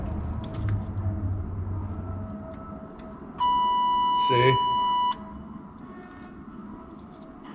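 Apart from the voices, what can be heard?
car warning buzzer after connecting 94 wiring harness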